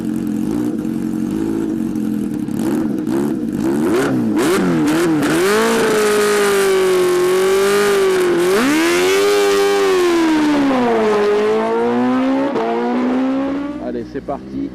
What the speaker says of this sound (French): Le 4 cylindres diffuse directement dans un 4 en 1 sans silencieux. On dégage un son très rauque et caverneux digne d'une moto GP.